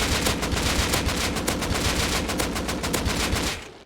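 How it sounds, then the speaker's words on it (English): An AK rifle fitted with an 8x scope fires in the video game Rust: rapid, loud automatic shots in a fast, steady rhythm that cut off abruptly near the end. "gonna shoot the AK with an 8x scope"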